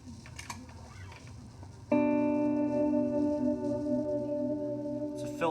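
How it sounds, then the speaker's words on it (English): A sustained guitar pad swells in through a modulated filter delay, a held chord with shimmering, wavering overtones after a soft, muffled start, then fading at the end. "It's a filter delay, has a little more modulation on it"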